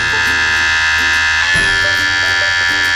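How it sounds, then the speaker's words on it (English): A rechargeable Li-ion hair clipper hums steadily, then its pitch and tone shift midway as it switches to turbo speed, running loud and close with a continuous buzzing whine. "long press it to change it to turbo. You'll notice the sound difference."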